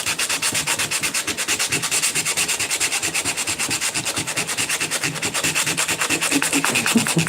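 Steady back-and-forth scraping of a disposable sandpaper sponge, rubbing in a quick even rhythm for several seconds, close and loud with no talk.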